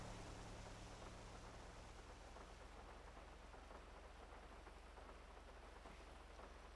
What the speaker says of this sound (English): The rain sounds so smoothing.